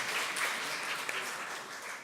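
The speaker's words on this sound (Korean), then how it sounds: "다시 한번 큰 박수 부탁드리겠습니다" Audience applause at a national budget forum marking 70 years of Korean public finance, a steady, fairly soft wash of clapping from a seated crowd in a hall, continuous and even throughout.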